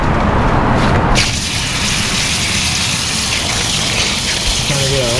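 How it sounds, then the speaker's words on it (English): Running water pouring over a tie-dye T-shirt as it is rinsed out outdoors in the sun: a loud, steady rushing gush that continues throughout, close to the listener. "Rinse out another tie-dye for you."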